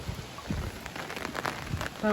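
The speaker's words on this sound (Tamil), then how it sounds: "மழை இன்னும் பெய்ய போகுது" Light rain from a storm patters steadily in a soft, continuous hiss, with faint voices in the background.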